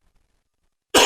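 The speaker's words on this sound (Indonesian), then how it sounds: "maaf batuk" One sudden, loud cough breaks a near-silent indoor pause during a spoken government planning presentation.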